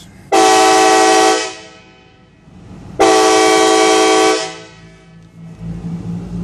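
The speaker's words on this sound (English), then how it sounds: "Fatal Fury here, right along with my K5LA train horn." Two long, loud blasts from a K5LA train horn sounded near an empty track, each held about a second and fading, with a low car engine idling afterward.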